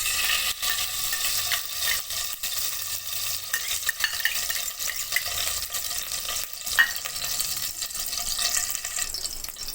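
Ghee heating in a pan for carrot halwa gives a steady, close frying hiss with faint scattered clinks and no talk.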